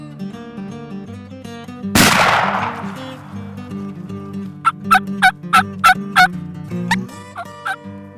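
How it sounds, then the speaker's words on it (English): A sharp blast rings out, followed by a run of loud, repeated wild turkey gobbles in springtime breeding season, several in quick succession, over a steady low hum. "the reason why the gobblers are responding, it's springtime, is breeding season for the turkeys"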